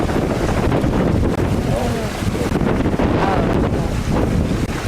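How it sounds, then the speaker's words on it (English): Strong, steady wind roars and buffets the microphone while sailing a boat on Hickling Broad, a constant loud rush with gusty swells and no pauses, faint water sounds beneath. "This wind has been fluky."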